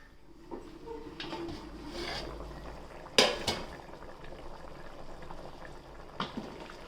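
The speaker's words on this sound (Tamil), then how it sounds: "இப்போ மூடி வச்சிடலாம், நல்லா ஒரு கொதி வரட்டுங்க." Water for mutton biryani bubbling at a low simmer in a covered pot, with a few sharp metallic clinks of the lid or utensils partway through, and no speech.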